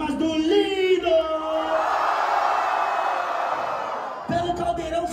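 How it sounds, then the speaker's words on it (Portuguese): A crowd at a Brazilian freestyle rap battle erupts in loud whoops, yells and cheers, a sustained roar that swells and fades, bracketed by a host shouting over the noise. "barulhos, barulhos pra quem gostou das rimas do Lino"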